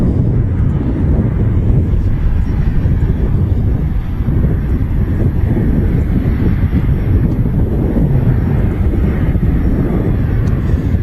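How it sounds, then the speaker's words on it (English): EasyJet airliner touching down at Manchester Airport after a flight from Porto: a loud, continuous low roar of engines and rushing air with wind buffeting the microphone. "EasyJet just touching down from Porto"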